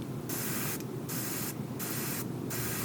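A spray gun used on a model ship gives three hissing bursts, each lasting about half a second to a second, separated by short pauses, close and steady, with no talking.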